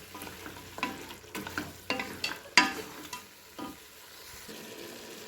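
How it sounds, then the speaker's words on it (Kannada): Mutton with added turmeric is stirred in a pan for mutton curry, with a series of close scraping strokes at irregular intervals over a soft sizzle that fades toward the end. No one speaks. "ಈಗ ಸ್ವಲ್ಪ ಅರಶಿಣವನ್ನು ಅದಕ್ಕೆ ಹಾಕ್ಕೊಂಡು ಚೆನ್ನಾಗಿ ಮಿಕ್ಸಿಂಗ್ ಮಾಡ್ತೇನೆ"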